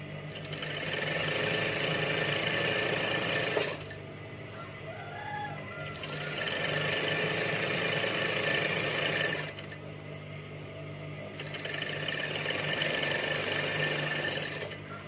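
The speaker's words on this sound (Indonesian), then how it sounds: "kita jahit pinggir ya, sedikit aja, nggak nggak usah lebar-lebar, ini hanya untuk sekedar jahit bantu" A sewing machine runs close and steady in three bursts of stitching with short pauses between them as it sews a helper seam along the edge of a mukena, with a faint steady hum underneath and no talk.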